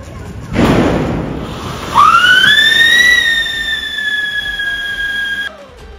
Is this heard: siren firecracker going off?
yes